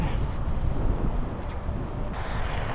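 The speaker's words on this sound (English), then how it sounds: "It's way too windy up here" Strong wind buffets the microphone on an exposed golf course, a steady low rumble with gusty surges that runs loud and unbroken throughout.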